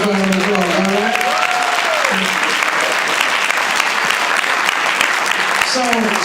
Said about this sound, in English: a tremendous round of applause